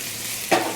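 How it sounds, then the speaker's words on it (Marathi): Boiled potatoes fry on high heat in a pan with a steady, loud hiss. A brief scrape or stir cuts in midway, and no one speaks. "मोठ्या आचेवरच आता याला आपल्याला छान गोल्डन होईपर्यंत दोन्ही बाजूने फ्राय करायचं आहे"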